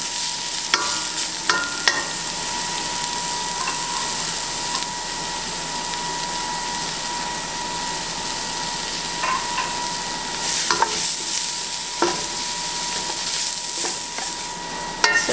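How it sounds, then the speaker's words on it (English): Garlic and leeks saute in a soup pot, giving a steady close sizzle and crackle throughout with occasional stirring scrapes and clinks, no talk. "So we're just going to let these saute and soften just a bit."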